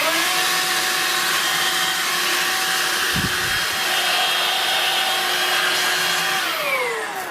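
A Vax Air Cordless Handheld H85 ACH BD 20V vacuum cleaner running: a loud, steady high-pitched motor whine with a brief low thump midway, the pitch dropping slightly as it winds down at the end.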